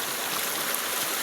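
Steady rushing water of the Laya River in Talisay City, Cebu, flows continuously, a broad even wash of noise close by with no voices over it.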